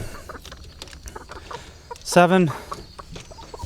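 Ameraucana chickens at a poultry auction; a single close, loud clucking burst stands out over soft background cackles and scattered barnyard noise, with a person speaking briefly.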